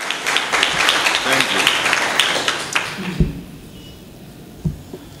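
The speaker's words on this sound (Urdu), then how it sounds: "یسوع کے لیے بھی تالیاں بجائی دے اور یسوع کے خادم کے لیے بھی تالیاں بجا دے" A church congregation claps together in dense, loud applause that fades after about three seconds, leaving a few scattered claps and quiet murmuring voices.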